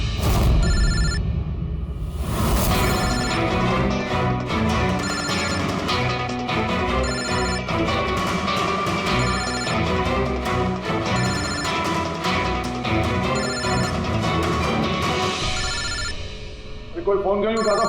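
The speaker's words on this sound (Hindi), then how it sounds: "कोई फोन क्यों नहीं उठाता? फोन उठा लो।" A telephone rings repeatedly and goes unanswered in a CID television episode, loud bursts of electronic ringing in a steady rhythm over background music, with voices talking.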